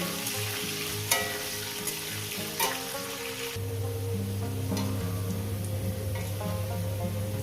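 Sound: frying potatoes with turmeric

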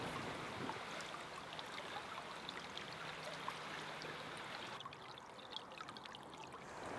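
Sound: water flowing into a river weed pit

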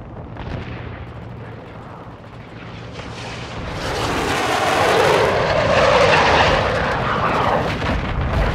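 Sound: friendly aircraft strike inbound in video game Call of Duty Modern Warfare II

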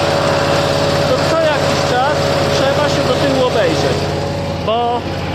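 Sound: tractor driving with Benassi Mecanica Fox 110 flail mower

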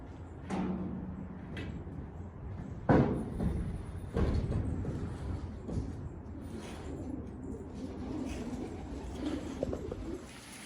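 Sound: pigeons cooing

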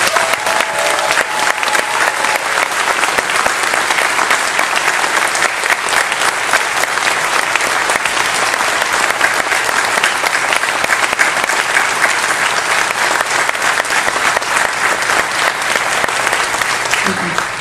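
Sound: audience applause at a cruise show

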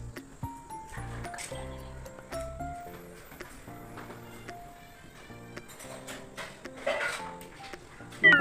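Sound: stirring in a cooking pan

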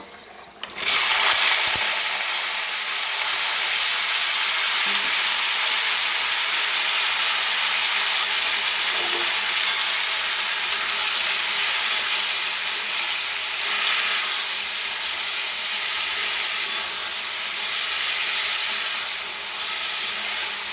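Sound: frying chopped beans, potato and eggplant

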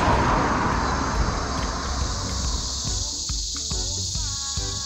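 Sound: cicadas chirping loudly

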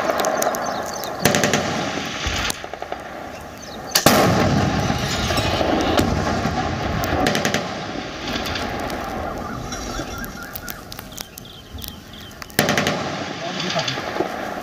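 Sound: gunfire from India-Pakistan border retaliation video

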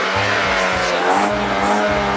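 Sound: loud car engine and exhaust roaring

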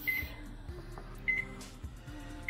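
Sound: microwave oven running

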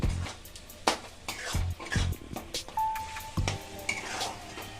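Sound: frying spices with Kashmiri chili powder in pan

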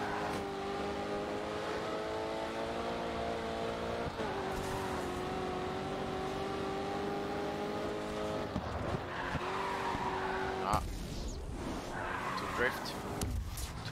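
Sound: race car engine and tire squeal in GRID 2 video game

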